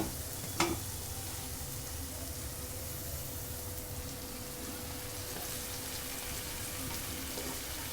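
Spinach going into a pan of potatoes frying for a potato-spinach dish, with a steady continuous sizzle throughout and a brief sharp clatter near the start, no talking.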